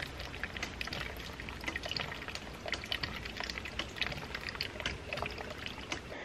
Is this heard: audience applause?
no